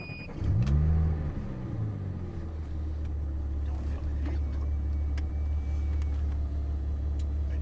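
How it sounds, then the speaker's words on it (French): A car engine cranks and catches, then settles into a steady low idle that runs on close by for several seconds. "tu vas pouvoir démarrer le moteur"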